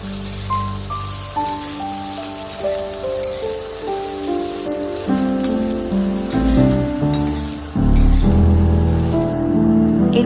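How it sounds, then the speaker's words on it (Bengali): Chopped potatoes fry in a pan for a spinach dish, giving a steady, rain-like sizzle that runs throughout, with tonal background music layered over it. "যে কেটে রাখা আলুগুলো ছিল সেগুলো আমি দিয়ে খুব ভালো করে ভেজে"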